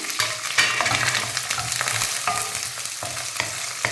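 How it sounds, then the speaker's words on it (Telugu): Chopped onions and green chillies with cumin and curry leaves sauté over medium flame in a pan, a steady sizzle broken by repeated scraping strokes of a spoon stirring, close and fairly loud, with no voices. "ఎర్రగడ్డలు కొంచెం సేపు మగ్గనిద్దాం. కొంచెం మీడియం ఫ్లేమ్ పెట్టి కొంచెం సేపు మగ్గనిద్దాము."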